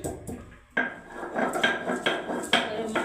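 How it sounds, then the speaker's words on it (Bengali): Ginger being pounded on a stone grinding slab for a Bengali steamed fish roe dish, a series of sharp, loud, near thuds and scraping knocks at an uneven rhythm with no talk. "এই যে আদাটা ছেঁচে দিচ্ছি"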